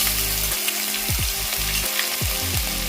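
Crushed ginger, garlic and green chilli sizzle loudly and steadily in hot coconut oil for a mackerel fish curry, with music playing over the frying throughout.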